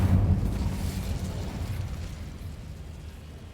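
A fiery burst as the Incendio spell is cast in the Hogwarts Legacy video game, a loud whooshing blast at the start that slowly fades over a few seconds, with no talking.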